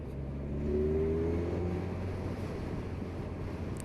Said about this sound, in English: Winding the throttle on from 30 miles an hour in top gear.